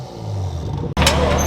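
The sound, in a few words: 2020 Toyota Supra straight-pipe exhaust revving, valve opening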